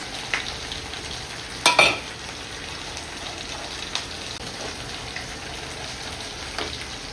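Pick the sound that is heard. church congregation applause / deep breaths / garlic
garlic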